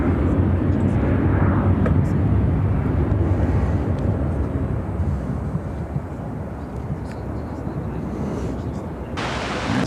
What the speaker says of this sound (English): This is American Airlines 944 taking off to Bozeman on the